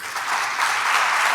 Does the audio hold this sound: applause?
yes